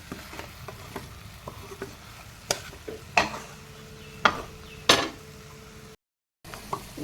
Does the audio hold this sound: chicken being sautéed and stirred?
yes